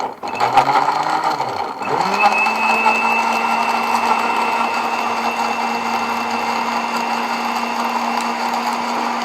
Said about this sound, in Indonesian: kemudian baru kita blender.